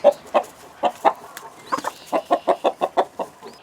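Chickens clucking in a series of short, evenly spaced calls after being let out of their pen, close and fairly loud, with no talk over them.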